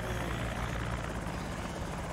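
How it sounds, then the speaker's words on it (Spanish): A helicopter in the zombie survival game Project Zomboid flies overhead, its steady rotor thrum and engine drone filling the clip at an even level, with no voices. "¡El fucking helicóptero!"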